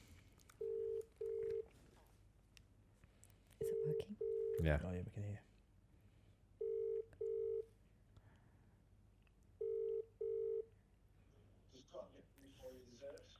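A phone call placed on speakerphone, with several pairs of ringback tones repeating at a steady cadence and a brief clatter in between, while people talk quietly nearby.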